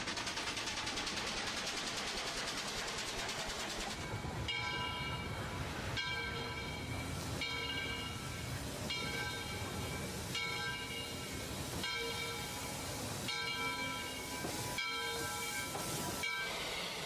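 A train rolls past with a steady hiss and a ringing, whining tone, punctuated by regular rhythmic clacks of wheels over rail joints roughly every second and a half. It is moderately loud and continuous, with no talking.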